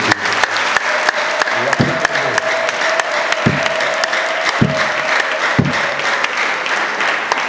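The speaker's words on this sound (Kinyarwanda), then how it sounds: "Muyikomere amashyi hejuru" A church congregation claps together in a steady, dense wave of applause that fills the room, with a few sharper knocks and thumps standing out from the sustained clapping.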